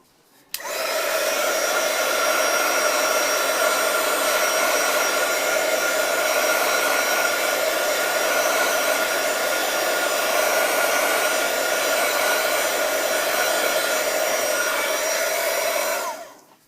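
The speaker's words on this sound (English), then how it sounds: "I think I will blow dry this for the sake of time" A hair dryer blowing on a handmade card during a cardmaking workshop, switched on and running as a steady, loud, close whoosh with a whining tone for about fifteen seconds before cutting off.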